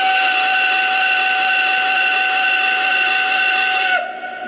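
Steam whistle of a Lionel PRSL H10 model steam engine sounds as one long, steady, loud chord-like blast, close and alone, ending abruptly near the finish.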